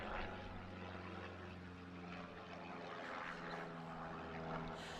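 A propeller airplane passes over an outdoor university commencement ceremony, its engine a steady low drone with a broad rumble that holds throughout, heard from a distance with no voices over it.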